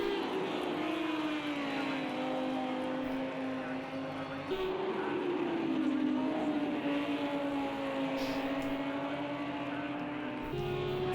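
Lamborghini GT3 race cars battle at Watkins Glen in Project Cars 2, engines droning loudly and steadily with shifting pitch as they run close together under faint commentary.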